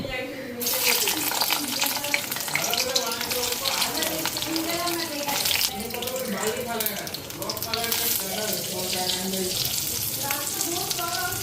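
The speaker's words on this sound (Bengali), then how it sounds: "আগে বেগুনটা ফ্রাই করে নিই" Oil sizzles steadily in a pan as eggplant fries, with faint voices in the background throughout.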